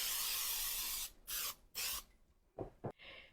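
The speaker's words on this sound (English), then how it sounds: "So do spray your thing with Pam a little bit." Pam cooking spray hisses onto a baking dish in a long continuous spray, then two short bursts, followed by a few faint clatters, heard close with no talking.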